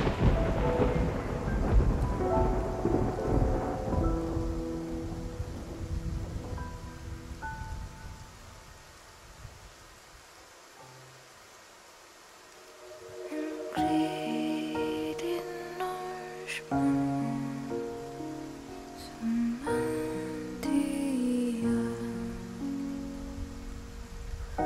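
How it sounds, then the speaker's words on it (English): Rolling thunder and heavy rain lash a ship caught in a storm on rough seas in a video game, loud and dense at first, easing to a quieter lull, then swelling again with crashing gusts and layered rumbles. "Any further in a storm would be the last thing on your minds."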